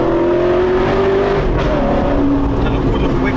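Alfa Romeo 8C Spider's engine pulling hard under acceleration, a loud, sustained mechanical drone with shifting tonal pitch, close and continuous, with a voice heard briefly over it.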